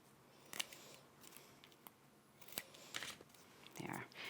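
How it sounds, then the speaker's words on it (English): Scissors trimming the edges and corners of paper card labels: a handful of short, crisp snips spaced irregularly, quiet and close, with no talking. "I'm just going to take my scissors and trim the edges here and hit the corners."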